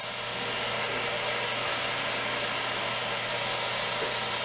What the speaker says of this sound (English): doing a tool change here, going over to tool number two.